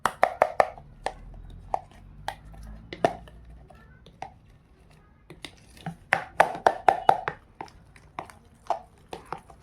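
Mehndi paste is mixed by hand in a large container, giving irregular wet slapping and squelching strikes in bursts, close and fairly loud, with quieter pauses between the flurries.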